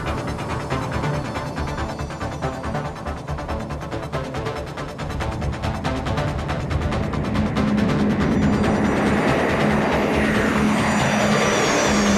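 Aircraft of the Orlik aerobatic team take off at an airshow. A loud, continuous engine roar fills the scene and swells steadily, with a sustained whine rising out of it in the later seconds as the planes power away.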